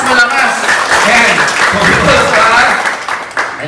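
An audience at a product presentation applauds loudly and steadily, a dense clapping roar with a voice speaking over it.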